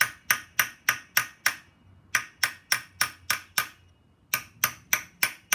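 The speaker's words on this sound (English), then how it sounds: "Small hammer." Small hammer beating on a flat punch to flatten a bent tab during clutch removal on a Suzuki LS650 motorcycle, crisp metallic taps in quick bursts of four to five, close and clear.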